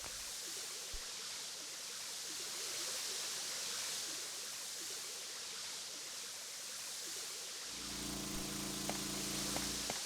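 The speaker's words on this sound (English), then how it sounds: "An old pump. Water seems to be sent from here." Steady rushing water pours from an old pump in a Resident Evil mansion on PS1, a continuous broadband stream close by; near the end a low droning hum with faint clicks joins in.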